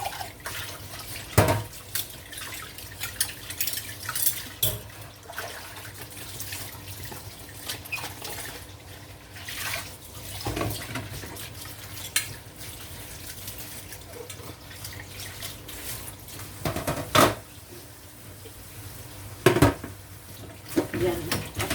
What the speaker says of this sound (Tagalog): Tapos na hugas plato.